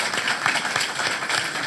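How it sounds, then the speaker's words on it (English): Steady applause from a forum audience for a candidate, dense clapping filling the room at an even, sustained level throughout. "How about a round of applause for our candidate?"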